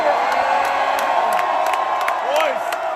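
A concert crowd in Dallas roars and cheers for a hip-hop show, a loud sustained wall of shouting and whoops with rising yells, voices layered throughout the dense noise.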